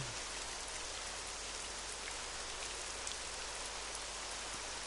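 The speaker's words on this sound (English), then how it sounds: "And it's raining again." Steady rain falling over Gotham city in a video game, a constant even hiss of drops with no voices, soft and unbroken.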